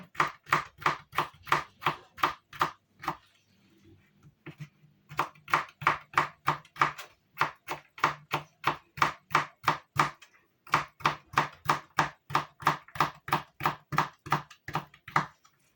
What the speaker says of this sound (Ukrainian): Натерли чи нарізали огірочок і перчик